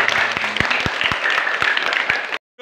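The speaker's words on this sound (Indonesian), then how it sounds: "Wih, tepuk tangan." Applause from an audience at a school event for a digital reading corner, with dense, steady clapping that lasts about two and a half seconds and then cuts off abruptly.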